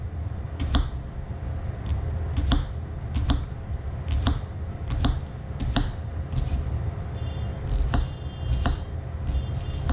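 A paring knife slices around the sides of an onion, giving sharp, evenly spaced taps on the board about every second, with a low steady hum underneath and no talking.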